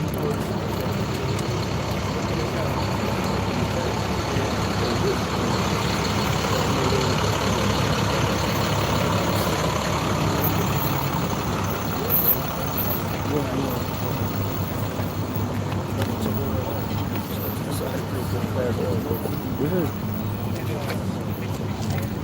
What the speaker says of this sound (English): This truck gonna come through there.